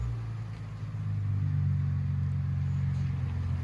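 A 2005 Infiniti G35 with a DTM muffler, its exhaust a deep steady rumble that swells slightly partway through, heard from close by without talk.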